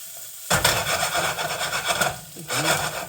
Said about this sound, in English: let's get the butter moved around in the pan a bit